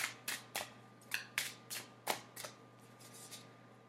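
Tarot cards slid and shuffled from a deck during a reading, a quick run of about a dozen crisp papery snaps and flicks, close and fairly quiet, with no talking.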